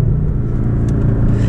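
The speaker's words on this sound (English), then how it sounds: "So now we'll get the maximum cracks and pops on the exhaust." Porsche 718 Boxster GTS in Sport Plus with its sport exhaust, a steady loud engine rumble and drone heard from inside, with faint crackle at moments but no distinct pops.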